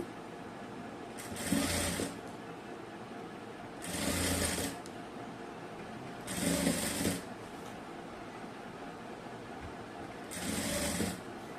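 Lace is stitched onto a garment neckline by a sewing machine in four separate short bursts, each lasting about a second, with quiet pauses between them.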